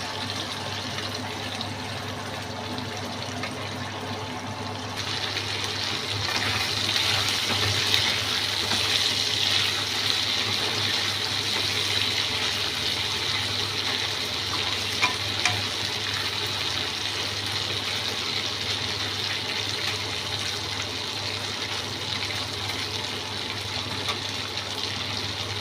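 Prawns frying in hot oil in a pan for a prawn and watermelon curry, giving a steady broadband sizzle that swells a few seconds in and then holds evenly, with no talking.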